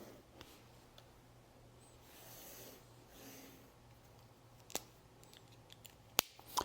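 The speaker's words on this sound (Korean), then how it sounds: "재단을 해줍니다." Scissors snip through material for a clutch bag in a quiet room, a few faint, sparse cuts with sharper clicks near the end.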